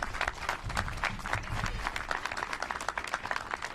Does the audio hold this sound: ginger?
no